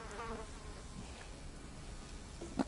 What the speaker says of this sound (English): You can hear the flies buzzing.